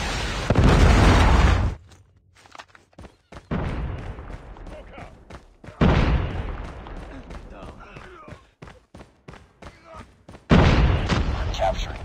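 Predator missile strike in Call of Duty Mobile multiplayer, several heavy booming explosions with long rumbling tails separated by quieter gaps, game voice callouts and ambient battle noise in between.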